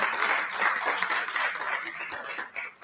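Polite golf-style claps from an audience, a soft, brief patter of scattered hands clapping with no voices over it.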